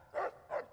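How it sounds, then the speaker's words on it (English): Rex, a dog companion in the video game Fallout: New Vegas, gives two quick, fairly close barks in a row with no talking. "stop barking at everyone, Rex."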